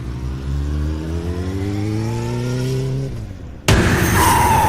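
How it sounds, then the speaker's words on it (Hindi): Motorcycle engine in a horror story sound effect, a steady revving drone whose pitch climbs before cutting off, followed by an abrupt loud scraping skid on a road. "काली सड़क पर वो अपनी बाइक के साथ घसीटते हुए कुछ दूरी पर जा रुका"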